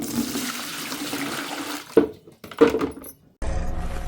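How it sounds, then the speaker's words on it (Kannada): Hot water from a large pot heated over a hearth gushes and splashes steadily, then breaks into a few sloshing pours and clanks of a vessel before a rush of running water resumes. "ಶಾನುಗೆ ಬಿಸಿ ನೀರು ತುಂಬೋಣ."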